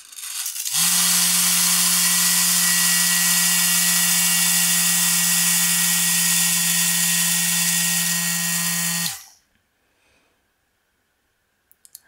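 A small PAL-FILLER reloading tool vibrates primers into primer pickup tubes for Dillon or RCBS presses, giving a loud, steady electric buzz that runs unbroken for about eight seconds before cutting off, followed by a few faint clicks.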